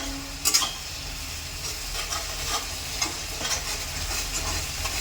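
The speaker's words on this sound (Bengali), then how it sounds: "মশলাটাকে কিছুক্ষণ কষে নিতে হবে, তাতে করে মশলার গন্ধগুলো মরে যাবে" Masala spice paste being stir-fried in a pan while cooking a fish curry, a steady low sizzle and frying hiss with a few louder stirring scrapes near the start.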